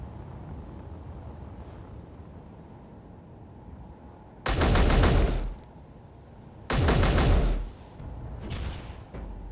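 Rifle gunfire in the video game Scrapyard Modding, two loud, dense bursts of rapid shots, each lasting about a second, standing out over a low mechanical hum.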